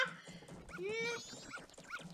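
A small dog in the video game Majora's Mask whimpers and yips, with rising and falling whiny cries over a steady game background, close and fairly loud.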